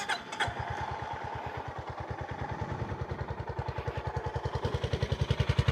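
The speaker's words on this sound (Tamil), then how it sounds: "இது ஐடியில் இருக்கிற சவுண்டு." Honda motorcycle engine, a CB350C or H'ness CB350, idling on its own with a steady, even thump of pulses close to the microphone. A brief start-up flutter opens it, and the idle grows slightly louder toward the end.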